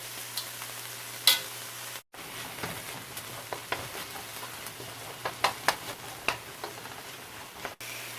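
Vegetables water-frying in a pan, with soy sauce just added, hiss in a soft, steady sizzle broken by scattered small pops and light stirring clicks, close and fairly quiet with no voices.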